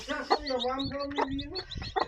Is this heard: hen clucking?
yes